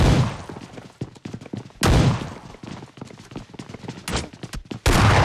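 Gunfire in PUBG Mobile Lite comes as loud, heavy bursts at irregular intervals, separated by quieter stretches of rapid clicking and rattling.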